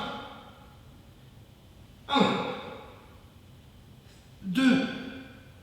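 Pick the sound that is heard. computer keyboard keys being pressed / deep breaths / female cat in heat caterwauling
deep breaths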